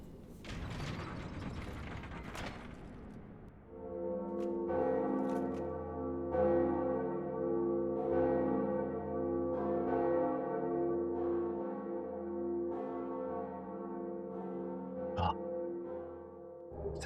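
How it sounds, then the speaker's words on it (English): A church-like bell from the first Bell of Awakening in Dark Souls is rung after a rumbling, mechanical grinding buildup, then tolls loud and resonant with repeated strikes and a long sustained ringing decay. "now we can finally ring the first bell of awakening"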